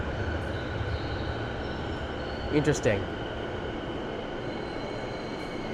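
Trains run through a Japanese train station in a steady low rumble, with a brief squeal of wheels in the middle and a voice speaking briefly.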